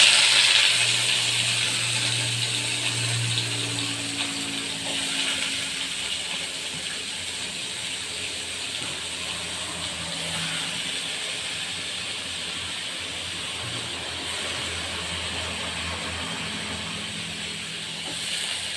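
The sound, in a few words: cut elephant foot yam added to hot oil with mustard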